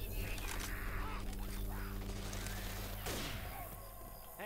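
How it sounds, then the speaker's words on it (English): Weapon reloading in the zombie shooter Left 4 Dead 2, with mechanical clicks and clatter over a dense, steady wash of gunfire and game noise. "Hey, I'm reloading."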